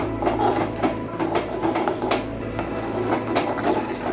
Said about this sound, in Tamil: இது ரெண்டுத்தையும் சேர்த்து நல்லா கிண்டிக்கலாம்.